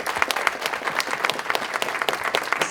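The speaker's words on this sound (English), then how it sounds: "give a round of applause to all of those who helped make" Audience applause at a university history communication event, a dense steady round of many hands clapping close by, sustained throughout without talk.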